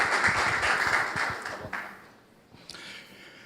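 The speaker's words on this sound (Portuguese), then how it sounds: "uma salva de palmas para Paulo Radisch" A roomful of business people gives applause for the mayor, Paulo Hadich, a brisk burst of clapping that fades out within about two seconds into a quiet hall.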